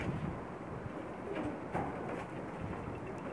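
A Sharmeela pigeon, a Pakistani breed, gives soft close cooing calls over a faint breezy background, with no voices.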